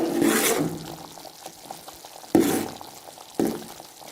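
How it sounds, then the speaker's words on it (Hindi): Homemade desi ghee with flour cooks on a medium flame and is stirred with a spoon, giving a low bubbling sizzle broken by three loud, surging scrapes and swishes spaced across the stretch, with no talking. "और चम्मच को इसी तरीके से हिलाते रहना है ताकि ये नीचे लग न जाए।"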